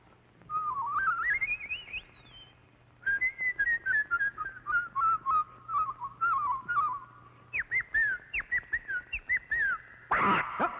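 A voice actress whistles an imitation of eerie bird calls, with rising and falling warbling phrases followed by a run of short repeated chirps, clear and close.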